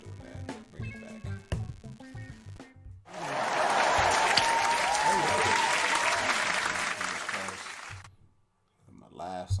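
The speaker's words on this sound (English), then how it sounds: "Applause, clapping on there." A canned applause and clapping sound effect bursts in after speech, a dense, loud crowd ovation held for several seconds before cutting off, with a voice talking before and after.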